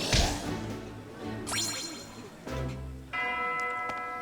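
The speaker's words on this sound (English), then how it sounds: "there goes the bell" A bell rings in the game Fire Emblem: Three Houses with several resonant chimes, the last one a sustained bright ring that carries to the end over softer game sounds.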